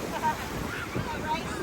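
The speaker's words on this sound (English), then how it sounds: "look how big these waves are" Ocean waves at a beach, a broad rushing surf wash with gusts of wind buffeting the microphone, steady and moderately loud, with voices faintly mixed in.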